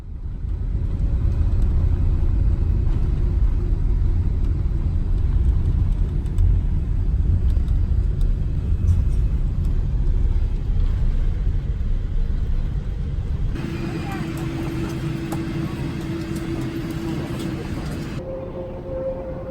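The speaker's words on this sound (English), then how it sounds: "2 hours after taking off from Seoul Gimpo, we're landing into Tokyo Haneda Airport." Inside the cabin of a Japan Airlines Boeing 787-8 landing at Tokyo Haneda, a loud, steady low roar and rumble fills the space, then abruptly changes to a different droning tone partway through as the aircraft comes down.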